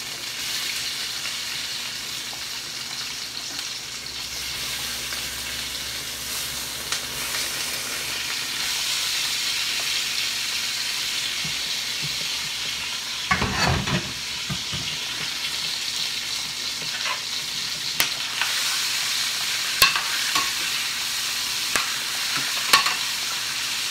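Onions and lemons taken from inside a turkey sizzle steadily in a turkey pan, with a burst of louder stirring and scraping around the middle and occasional clinks later, and no talking.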